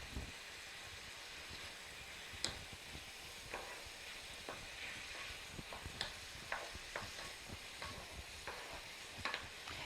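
Chicken sizzling in a pan for chicken Alfredo, a faint, steady frying hiss broken by repeated light scrapes and taps as it is stirred.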